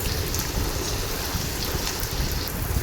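Onions frying in hot oil in a kadhai, a dense, even sizzle and crackle that holds steady and close throughout, with no talk.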